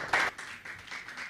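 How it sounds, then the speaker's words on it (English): Scattered clapping comes through an online call from the audience of a career networking event, a short burst of a few claps followed by fainter, uneven applause. "Keep clapping."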